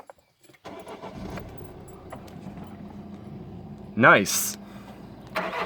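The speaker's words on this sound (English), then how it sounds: "and start this one up too" A car engine starts nearby with a short cranking whir and then catches into a steady idle, after key jingles and clicks and with a brief spoken remark.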